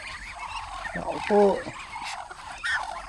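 Hungry ducks at a mangrove eco-park call out in short, harsh quacks while waiting to be fed, close by, with a person speaking briefly among the calls.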